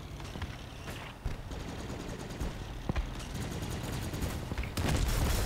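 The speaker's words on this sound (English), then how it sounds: "I hear firework-like stuff going off over here." Gunfire rattles in a Crossout vehicle combat video game, faint and distant, as rapid bursts of shots crackle over a steady background rumble.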